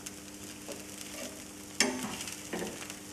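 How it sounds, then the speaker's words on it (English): A spatula sliding around a dosa frying on a pan to spread ghee, with faint sizzling underneath and a few sharp scrapes of the spatula against the pan, close and with no talk. "you just slide the spatula all around so that the ghee gets spread evenly all over"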